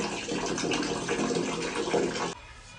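Running water splashes steadily while tomatoes are washed under a tap, then stops abruptly near the end as the water runs out.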